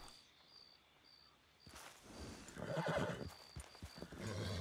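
A horse in Red Dead Redemption 2 whinnies at night in the game world, its neigh rising over steady chirping crickets and soft hoof clops, growing louder and closer toward the end.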